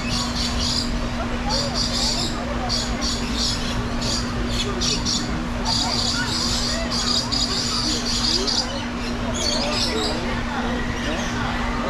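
Cuban amazon parrots in a zoo aviary give repeated raspy squawks and chirps in irregular bursts over a constant electrical hum and background murmur.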